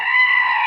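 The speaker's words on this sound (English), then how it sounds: "What say you, Screaming Goat?" A single loud goat scream sounds up close, a short harsh bleat that holds steady for under a second.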